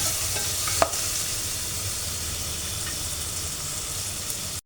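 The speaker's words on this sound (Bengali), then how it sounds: "সুন্দর করে ভাজা হয়ে গেছে।" Ingredients for Turkish chicken soup fry in a pan with a continuous close hiss and sizzle, broken by one brief clink of stirring and no voices.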